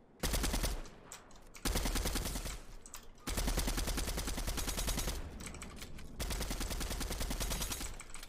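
Rapid bursts of gunfire in the Fortnite video game ring out loud and close, with short pauses between volleys as players fight, and no one talking.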